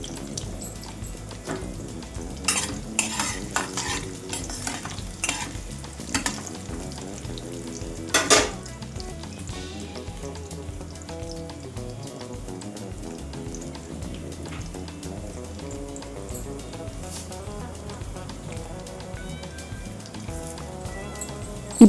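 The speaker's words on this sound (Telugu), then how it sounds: "ఇప్పుడైతే తాలింపు కూడా బాగా వేగిందండి" A tempering of dried red chillies and curry leaves fries in a pan with a soft continuous sizzle, with occasional sharp pops and a few scrapes of stirring; no one speaks.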